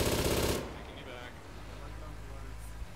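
Automatic gunfire in ArmA 3 during a combined-arms operation: a loud, dense burst of rapid shots for about half a second, then a low rumbling battlefield backdrop with faint distant pops.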